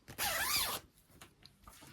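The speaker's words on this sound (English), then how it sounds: "And then close up the zip." A zipper on a sewn Peony dress is drawn closed in one quick, bright rasping pull lasting under a second, close and loud, followed by a few faint fabric rustles.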